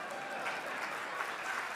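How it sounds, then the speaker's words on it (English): Luncheon attendees at an annual meeting applaud Boston Mayor Marty Walsh, a short burst of even, continuous clapping from a large crowd, moderately loud and with no speech over it. "Applause for Marty Walsh and the Boston team."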